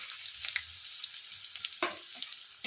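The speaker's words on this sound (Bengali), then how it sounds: "এখন আমি এই তেলে প্রথমে দেব রসুন কুচি তারপরে দেব আদা কুচি আর আমি দিয়ে দেবো লঙ্কা কুচি" Chopped garlic, ginger and green chili frying in oil for egg chilli, a soft continuous sizzle with occasional scraping stirs and small clicks, close and fairly quiet.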